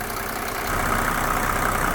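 The OM603 diesel engine of a 1987 Mercedes 300SDL (W126) idles steadily nearby after a diesel purge, a low, even rumble with a slight rise in level partway through.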